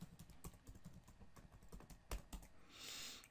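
A password being typed on a computer keyboard, a quick run of soft, close key taps with one firmer press near the end, faint and alone.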